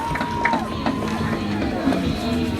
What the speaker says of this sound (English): listen to the Panther crowd on the near sideline